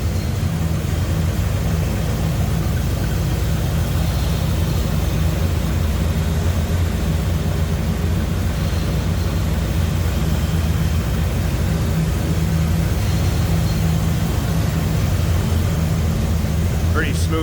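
Steady low rumble of a 1972 Chevrolet K10 4x4 pickup's 350 V8 with an Edelbrock four-barrel carburetor, idling smoothly and continuously at moderate loudness throughout.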